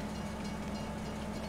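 Steady rumble of a train running in Farming Simulator 22, a continuous low hum with an even drone throughout, no talk.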